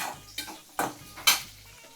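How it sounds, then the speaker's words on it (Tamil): A masala of ginger, garlic, shallots and tomato cooks in a pan, heard as three distinct knocks and scrapes of a stirring spoon over a faint, low sizzle, with no talking. "சைடு கேப்பில் நம்ம காய் வதக்கிக்கிட்டு இருக்கிறோம்"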